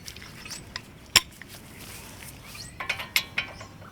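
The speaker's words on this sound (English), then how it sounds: "we're going to torque it up using the popular YouTube click-click method" A ratchet clicks while brake bolts are tightened on the front brakes of a D3: a few sharp metallic clicks, one isolated and then a quick cluster, close and fairly faint.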